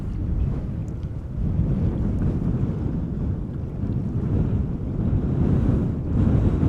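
Strong wind buffets an outdoor microphone at Schiphol Airport, a steady low roar with gusty swells that runs unbroken throughout, loud and close with no voices.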